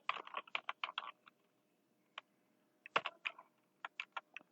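Typing on a computer keyboard while configuring a Cisco router, a quick run of close, crisp key clicks, a pause with one lone tap, then another burst of keystrokes.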